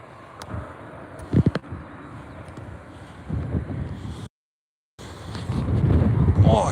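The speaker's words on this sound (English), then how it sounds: "Oh, it's windy. It's definitely windy." Wind gusting across a microphone outdoors at Newcastle airport, rumbling low buffeting that rises and falls, with a brief dropout of total silence before the blustering returns stronger.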